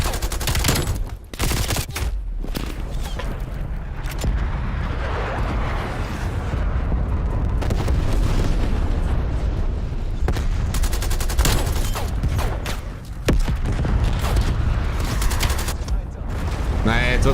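Dense gunfire in Call of Duty Warzone and Cold War, with rapid bursts, sharp shots and booming blasts layered into a constant loud barrage, as voices talk over the action.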